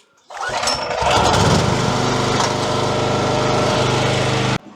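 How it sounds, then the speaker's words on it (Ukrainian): A petrol generator, powering a 7.5 kW Solax hybrid solar inverter setup at a home, cranks and fires up, then settles into a loud, steady, close engine drone that runs evenly until it cuts off abruptly near the end. "Он чудно, як працює генератор."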